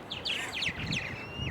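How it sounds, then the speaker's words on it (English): A purple martin colony chattering nearby, a busy overlapping mix of bright whistles, chirps and clicks, steady and fairly close over faint background noise. "Those whistles and clicks behind us, that's the language of the purple martins."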